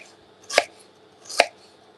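A knife slicing through a brown onion on a board, two crisp separate cuts about a second apart, close and clear against a quiet kitchen.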